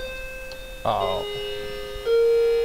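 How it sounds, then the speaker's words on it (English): A doorbell rings once, a clear tonal chime standing out from a steady background hum, followed by a brief spoken exclamation. "Okay, that was a doorbell."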